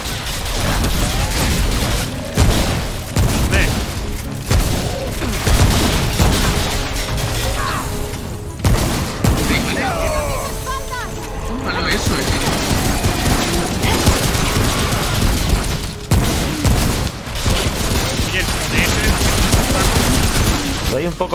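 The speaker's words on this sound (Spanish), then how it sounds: "Cuidado, ametralladora." Machine gun fire rattles through a co-op session of Remnant: From the Ashes, dense, continuous bursts and crashes layered with game noise and voices talking over it throughout.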